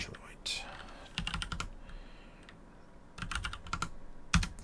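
A terminal command is typed on a computer keyboard in quick bursts of close, crisp keystrokes separated by short pauses, ending with a sharper tap like an Enter press.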